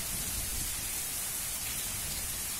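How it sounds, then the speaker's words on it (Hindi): Heavy rain pours steadily over farm fields during a dark storm, a dense, unbroken hiss, loud and close, with no voices. "जबरदस्त बारिश हो रही है।"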